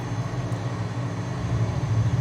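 Aircraft engine thrust during taxi, a steady low rumble and hum that holds level, then swells slightly toward the end, close and continuous with no talk.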